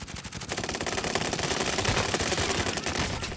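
Rapid automatic gunfire in the battle royale game Warzone, a dense continuous burst of close shots that runs steadily throughout with no talk over it.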